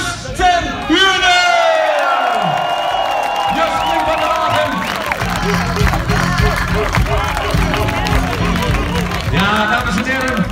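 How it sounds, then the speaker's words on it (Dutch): A crowd at a Dutch festive wagon event claps, cheers and whoops continuously for about ten seconds, loud and close, with shouting voices mixed through the applause. "Geef hem een groot applaus, Jos ten Hune!"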